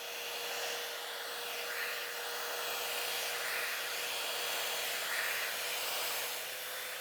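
Blow dryer running steadily while hair is reshaped with a brush, a continuous airy hiss at moderate level with slight swells as it moves around the head, with no voices.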